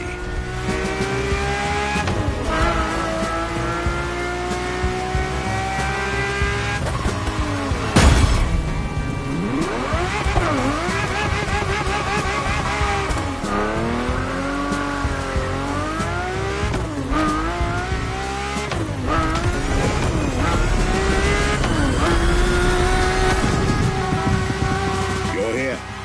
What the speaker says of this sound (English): the inspired and inspiring Ferrari F40. And on the other hand, nothing less than a road-legal Formula One, the Ferrari F50